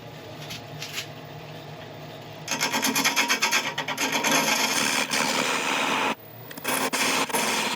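A gouge cuts down the top of a resin and wood blank spinning on a lathe, first light scraping, then a louder rhythmic rasping chatter that breaks off briefly near the end.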